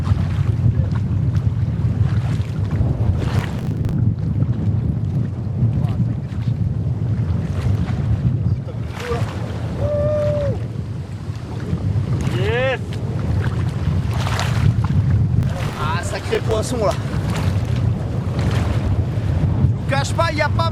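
Strong wind roars across the microphone on a fishing boat at sea, a steady loud rush throughout with splashing water beneath and brief shouts and whoops from people aboard.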